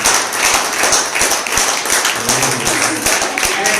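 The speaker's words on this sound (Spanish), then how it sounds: "Denle un aplauso al Señor" A church congregation claps for the Lord, a lively patter of hands with some sharper individual claps and a murmur of voices underneath, close and fairly loud throughout.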